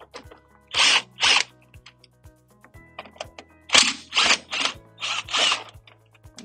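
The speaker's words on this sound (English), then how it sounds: "We will go down here underneath and remove these two star bit screws down here." Short bursts from a powered driver backing out the star bit screws under a DAB EsyBox water pump, in paired whirring pulses with small clicks and pauses in between, close and fairly loud.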